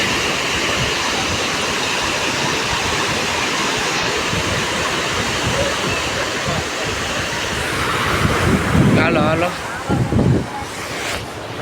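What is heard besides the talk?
sea waves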